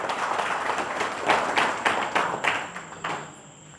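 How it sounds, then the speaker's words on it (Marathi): A devotional gathering's audience claps in a burst of scattered, fairly close applause, with distinct individual claps rising and falling over several seconds before tapering off. "बस सर्वांनी टाळ्या वाजवा यांच्यासाठी परत एकदा"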